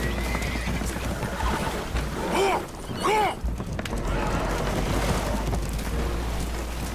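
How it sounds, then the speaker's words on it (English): Spooked horses in the Red Dead Redemption game neigh and whinny twice in quick succession on a damaged, leaking boat, loud and close over a steady rumble of water and creaking hull noise. "Horses are spooked"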